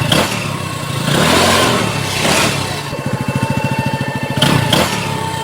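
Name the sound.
motorcycle being ridden, cartoon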